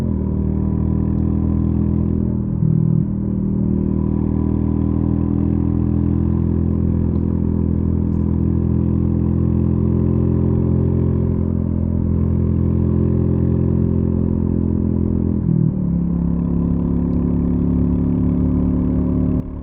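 A Royal Enfield Meteor 350 motorcycle at about 60 mph on a back road gives a steady mid-pitched engine drone throughout, with a slight rise in pitch and a couple of brief clunks along the way.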